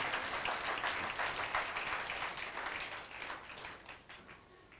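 Applause from a congregation at a Saturday satsang, a burst of clapping that is fairly faint and gradually dies away over a few seconds.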